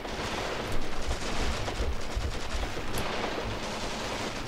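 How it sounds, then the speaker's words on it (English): Heavy machine guns in the WWII tank strategy game Achtung Panzer rattle in continuous overlapping bursts, dense and somewhat distant, with no talk over the steady clatter. "we've got our heavy machine guns firing at the guys that are attacking our units here"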